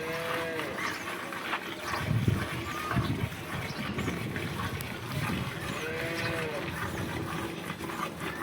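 A local Banaskantha cow moos twice, about five seconds apart, in a barn during milking. Voices talk in the background and a steady hum runs underneath.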